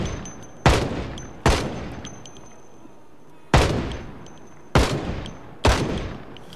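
Five loud, sharp gunshots in Project Zomboid ring out at uneven intervals, each with a brief echoing tail, close and prominent with no talking.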